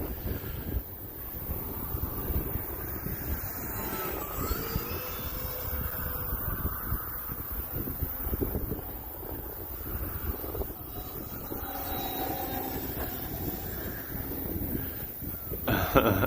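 Strong wind on a cold afternoon at an outdoor model plane flying field, buffeting the microphone with continuous rumbling gusts; a faint motor whine and some talking can be heard underneath.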